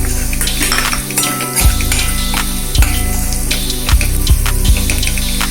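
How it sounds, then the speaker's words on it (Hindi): Turmeric is stirred into vada pav masala frying in a pan, a steady sizzle broken by repeated spoon scrapes and clanks against the metal, close and fairly loud with no talking. "अभी हम इसमें हल्दी डाल देंगे और इसे अच्छी तरह से मिक्स कर लेंगे"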